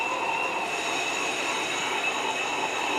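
Metal lathe turning a steam engine valve sleeve with coolant running, a steady, dense hiss and whine of cutting and spraying fluid with a high ringing tone throughout, close and continuous.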